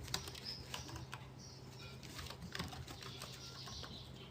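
An SQL query is typed on a computer keyboard, with quiet, steady, rapid key clicks running continuously beneath a low background hum.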